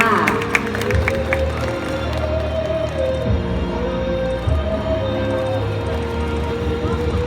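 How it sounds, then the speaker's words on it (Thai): A crowd at a vegetarian festival event cheers and applauds the people on stage, a dense sustained roar of clapping and shouts with music and amplified voices running underneath. "ขอเสียงปรบมือให้กับทุกท่านบนเวทีด้วยค่ะ"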